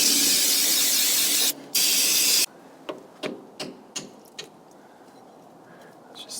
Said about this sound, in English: You got man. a can of brake clean?